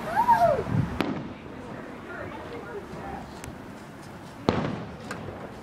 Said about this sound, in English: Watching some low fireworks there